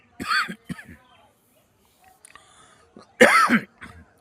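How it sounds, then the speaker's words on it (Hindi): A few harsh coughs and throat clearing close by, spaced apart with short silences, ending in one louder, raspy cough. "खांसी आ गई"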